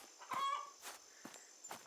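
A chicken in the farming game Farmer's Life gives a few soft, separate clucks, faint and spaced out with no talk over them.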